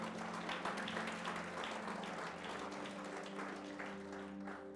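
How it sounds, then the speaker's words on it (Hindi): A church congregation applauds at a Christian worship service, broad steady clapping sustained throughout, with a sustained musical tone running underneath. "क्यों ना प्रभु के लिए ताली बजाएं।"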